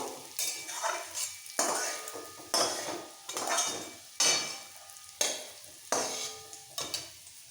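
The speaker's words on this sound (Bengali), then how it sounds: "এইভাবে ভাজতে ভাজতে গাজর বিনস ভালোভাবে সেদ্ধ হয়ে গেছে" Carrots, beans and cauliflower stir-fried in a pan, with a spatula scraping and clattering in rhythmic bursts about once a second over a soft constant sizzle.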